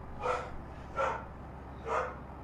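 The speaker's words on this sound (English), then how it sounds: "Oh dear, very loud bark." A dog barks three times at a steady pace, loud and fairly close, standing out from a constant low background hum inside an aircraft cockpit setting.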